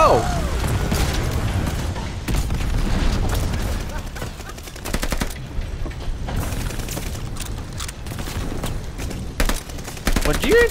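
Gunfire in Call of Duty Vanguard, with shots and bursts scattered across a busy game soundscape of booms and impacts, some near and loud, with voices talking at times.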